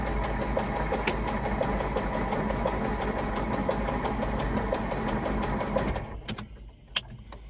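A model airplane engine sputters and churns steadily as someone tries to start it, a continuous mechanical drone that cuts out near the end, leaving a few faint clicks.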